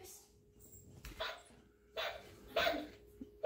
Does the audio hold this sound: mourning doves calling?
no